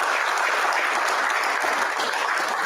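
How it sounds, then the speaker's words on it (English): A school board meeting audience gives a steady round of applause for honored students, dense clapping at even loudness throughout. "Let's give them a round of applause if we could,"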